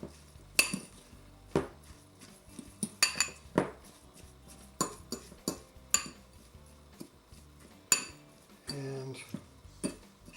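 Spoon scraping and clinking against a bowl while stirring a mixture with almond milk, irregular sharp clinks and scrapes close up, with a brief spoken word.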